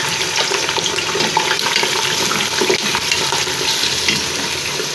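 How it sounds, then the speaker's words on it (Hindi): Chicken pieces frying in a cup of ghee, a dense steady sizzle and crackle with faint stirring and clinks, no talk. "1 कप मैंने घी ले लिया, उसमें मैंने चिकन डाल के भून लूँगी।"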